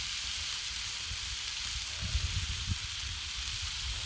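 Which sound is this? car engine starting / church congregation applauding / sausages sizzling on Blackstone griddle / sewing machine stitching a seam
sausages sizzling on Blackstone griddle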